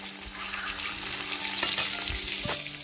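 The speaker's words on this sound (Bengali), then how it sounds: "ডিমটাকে একটু লাল লাল করে ভেজে নিচ্ছি" Eggs fry in a pan until browned and crisp, a close, continuous crackling sizzle with a brief scrape of stirring near the end.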